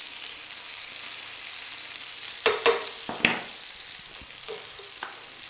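Steak sizzling in a pan for a classic wine, butter and mushroom dish, a steady soft frying hiss broken midway by a few sharp clicks and scrapes of a utensil.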